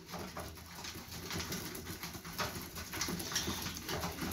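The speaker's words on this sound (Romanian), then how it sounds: "Deci înseamnă să mânce porumbeii la grămaș, uitați-vă la ei." Pigeons from a racing loft feeding together, a dense soft cooing and fluttering chatter with scattered pecks, fairly faint and continuous.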